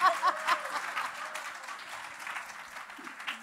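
An audience at a panel discussion on cinema claps in a soft, diffuse wave that starts fuller and thins out over a few seconds.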